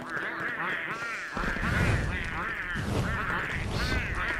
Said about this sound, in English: okay, that noise is already driving me insane